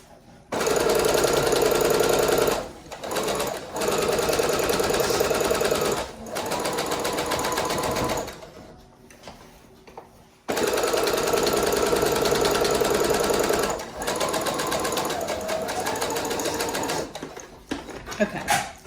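A sewing machine runs in loud, steady bursts of rapid mechanical stitching through fabric, pausing briefly between runs as the work is turned, with a quieter gap midway.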